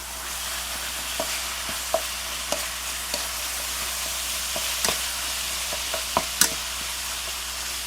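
Ground lamb fries in a pan for tacos, a steady close sizzle with occasional sharp scrapes and clicks of stirring, no voices.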